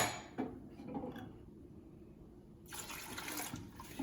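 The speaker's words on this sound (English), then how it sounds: "Pour in about 4 cups of vegetable broth, 2 cups of water." Vegetable broth and water pour into a soup pot with a steady liquid splash, brief clinks early on and the flow growing louder and brighter near the end.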